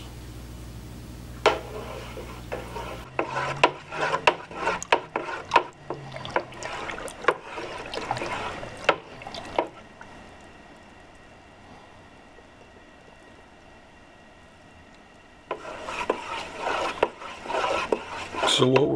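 A wine concentrate mixture for homemade red wine is stirred in a fermenting bucket, giving irregular scraping and sloshing rubs for several seconds, then a quieter hum, and the stirring returns near the end.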